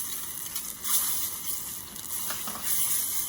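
Light butter, garlic and prepared horseradish sizzle and crackle steadily in a hot pan as they are stirred, a close, continuous frying hiss with faint scraping.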